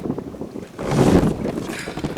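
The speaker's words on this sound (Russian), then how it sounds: "Ветер Усиливается. вообще прям сильный стал." Strong wind blows over a lake during fishing from a boat, a loud roaring gust buffeting the microphone and rising to a peak midway, with no talk.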